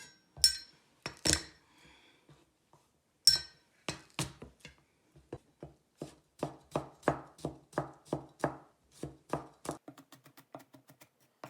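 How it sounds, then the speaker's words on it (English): Garlic minced with a knife on a cutting board, with a few sharp isolated chops followed by a quick, steady run of close knocks that gradually lighten. "And then mince the garlic."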